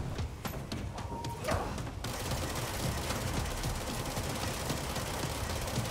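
Gunfire in the Control video game, shots from a levitation-fired weapon with near-endless ammo, a dense steady crackling barrage running continuously at moderate loudness after a brief quieter opening.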